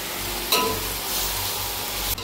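Chopped tomatoes and other dum biryani ingredients fry in a pan with a continuous close sizzle, broken by a brief stirring scrape near the start and another near the end, with no talking.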